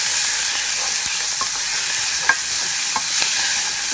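Onion, sweet pepper, tomato and cilantro frying in olive oil for chicken empanada filling, a loud, even close sizzle with occasional spoon clicks and light stirring, no one speaking.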